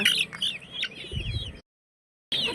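Desi hen chicks chirp in a busy cluster of high, overlapping peeps while feeding, cut by a short silence before the chirping starts again.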